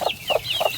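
A mother hen clucks three times in quick, evenly spaced calls, close and clear over faint background noise.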